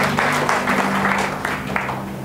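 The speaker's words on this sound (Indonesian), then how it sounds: "Berikan tepuk tanganmu untuk Tuhan." A church congregation applauds during a sermon, a steady, moderately loud wash of clapping lasting a couple of seconds with a low droning tone running underneath.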